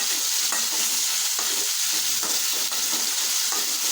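Chopped tomato frying and being stirred in a pan, a steady close sizzle with soft stirring scrapes running throughout, no voices.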